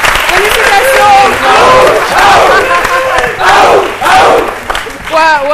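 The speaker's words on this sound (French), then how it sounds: "On les applaudit très fort." A studio audience on a midday television show applauds and cheers loudly for an Ivorian frisbee team, with clapping mixed with shouts and whoops throughout, while voices carry over the crowd.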